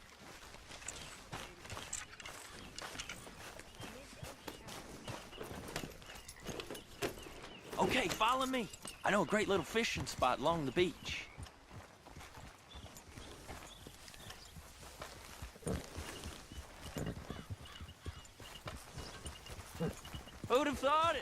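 Horse hooves clip-clop at a steady trot through Red Dead Redemption 2, carrying on under near, continuous talk from a couple of voices with a light in-game backdrop.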